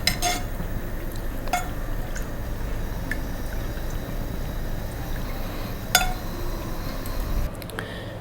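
Spoon clinking against a pot or cup while turmeric powder is stirred into warm milk, a few sharp metallic taps over a soft steady background, with no talking.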